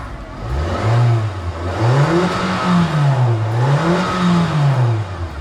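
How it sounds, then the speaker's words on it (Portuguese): A 2025 Nissan Kicks with a 1.6 naturally aspirated engine revs in neutral, its pitch rising and falling in about three smooth waves, close up and with no talking. "Este é o ronco do motor"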